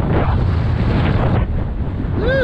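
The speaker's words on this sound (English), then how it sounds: "The hurricane wind is just so strong that's pulling me back." Strong hurricane wind roars and buffets the microphone in a loud, continuous rush that barely eases for the whole stretch, with no voices.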